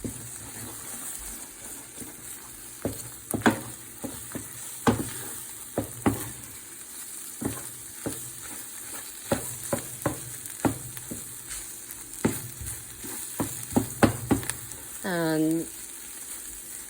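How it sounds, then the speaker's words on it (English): Sweet potato fried rice fries in a pan under a soft, steady sizzle, with frequent sharp scrapes and clacks of stirring and a brief whoosh near the end; a voice speaks a word. "I'm going to mix it around and just let it fry a little bit in the middle"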